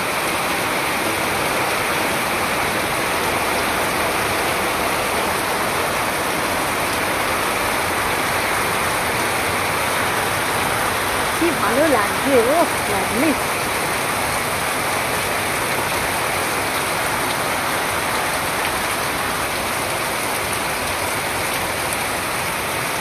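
Heavy rain pours down in a dense, unbroken roar throughout, with a voice speaking briefly and faintly beneath it.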